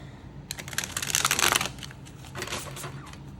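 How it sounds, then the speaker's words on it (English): Tarot cards being shuffled by hand give off a quick burst of dense riffling clicks, a pause, then a second, softer flurry of card snaps, all close up and without speech. "We'll start with some shuffling."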